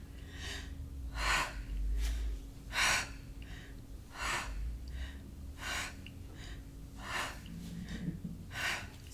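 Forceful breaths pushed out through the mouth during a yoga breathing exercise in a stress-relief class, about eight sharp exhales at a steady rhythm of roughly one every one to one and a half seconds, close and moderately loud.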